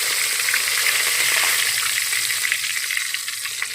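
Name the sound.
mustard seeds and cumin sizzling in hot ghee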